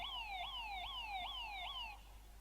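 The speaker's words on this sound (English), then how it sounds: "this is an unnecessarily long siren sound" A siren sound effect from the video game J B Harold Murder Club wails in steady rising sweeps, about five repeated cycles, loud and alone with no talk.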